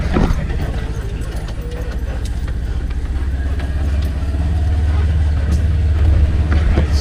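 A Ranger utility vehicle's engine rumbles low and steadily as it travels a rough logging road, with faint rattles and knocks from the ride, loud and close throughout.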